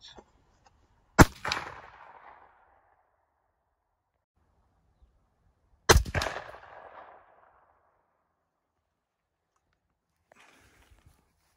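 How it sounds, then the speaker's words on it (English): Two sharp gunshots fired outdoors during target shooting before deer season in Michigan, each a loud crack followed by a rolling echo, several seconds apart with quiet between. "So she shot 6 times."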